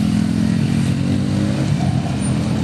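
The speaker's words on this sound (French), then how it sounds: "regardez ce que le gars s'est fait à sa moto" A customized motorcycle engine revs loudly and close, a throbbing, rumbling roar that holds steady for a few seconds.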